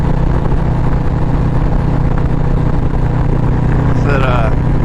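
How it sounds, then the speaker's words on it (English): A motorcycle engine idles while warming up before a ride, a steady close droning hum with no change in pace, with a brief faint voice near the end. "Let the bike get warm up."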